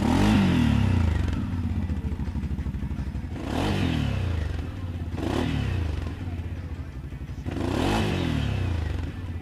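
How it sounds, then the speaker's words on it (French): The V-twin engine of a CFMOTO CForce 800S Black Edition ATV revs up in repeated surges during a ride, rising and falling bursts close by with some clatter from the terrain. "La sonorité du bloc V2 est très agréable et ne nuit pas à la balade."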